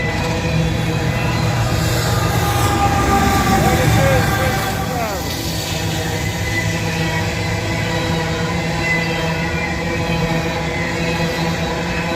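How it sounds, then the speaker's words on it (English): An empty coal train pulling uphill on a grade rumbles steadily past, its deep engine drone layered with sustained metallic wheel tones, loud and continuous throughout. "Empty coal train going back to Pennsylvania."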